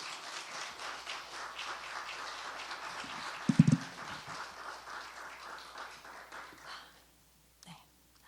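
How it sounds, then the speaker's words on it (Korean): A church congregation at a Friday prayer meeting applauds softly, a faint, steady patter of clapping from across the room. A few louder knocks come in the middle, and the applause dies away into near silence before a brief thump. "박수."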